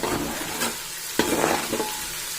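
Gongura leaves and crushed garlic frying in a pan, a steady broadband sizzle with a couple of louder stirring scrapes, close and continuous with no talking.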